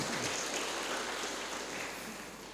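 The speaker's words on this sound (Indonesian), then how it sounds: "Mohon tepuk tangan untuk teman-teman pabrik Trangkil." Applause for the Trangkil sugar factory staff at a ceremony: a steady, soft wash of many hands clapping at a distance, fading slightly toward the end, with no speech over it.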